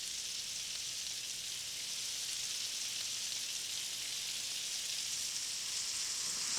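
Berries with a little sugar cooking in butter in a pan, a steady, even sizzle and hiss that carries on alone without pause.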